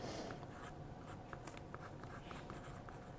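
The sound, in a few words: pen nib writing on 52 GSM Tomoe River paper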